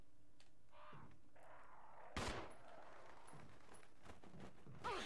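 A shotgun fires at crows in a Resident Evil video game: a sharp, loud blast midway and another near the end, with scattered bird calls and game ambience in between.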